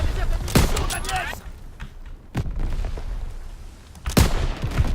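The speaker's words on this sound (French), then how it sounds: "ça se sent parce qu'il y a des balles qui passent pas loin de toi" Gunfire in the Call of Duty WWII campaign, with a few sharp shots spaced apart, bullets passing close by and the rumble of battle underneath, amid quieter stretches.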